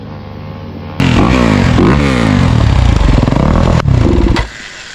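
A dirt bike engine, a Yamaha YZ125 or Honda CRF250R, revs loud and close, kicking in abruptly and wavering up and down in pitch before dropping back to a lower idle.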